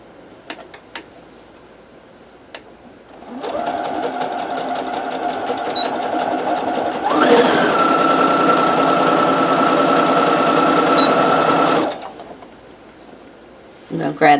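A sewing machine stitches quilt pieces together in one long steady run of rapid needle clatter. The run starts after a few quiet seconds, grows louder midway and stops abruptly near the end.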